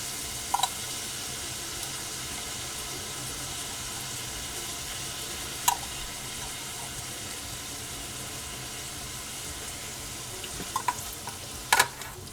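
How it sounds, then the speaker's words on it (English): Drained canned mushrooms and onion sauté in a pan for a pantry jäger schnitzel meal, a steady close sizzle and hiss throughout with a few sharp utensil clicks scattered across it. "I'm just going to saute this until they're a little brown and the onion is tender"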